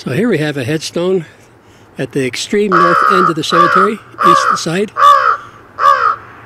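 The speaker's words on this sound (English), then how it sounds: "And now I hear some crows calling." Crows cawing in a cemetery at night, harsh repeated caws in a loose series over the second half, fairly close and prominent, with someone speaking over the first part.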